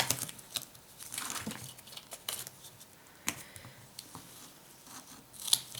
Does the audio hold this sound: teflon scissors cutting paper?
yes